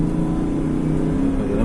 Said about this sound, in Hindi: मैंने जैसे एक्सेलरेटर पे पैर रखा गाड़ी निकल रही है।